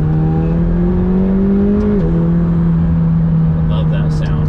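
McLaren 720S supercar engine while driving, a loud close drone that climbs slightly in pitch, dips at a shift and settles back into a steady hum.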